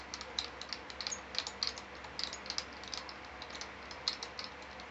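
Electric guitar strings being unwound from the tuning machines, giving a steady run of small, light metallic clicks and ticks, close but faint, with no talking.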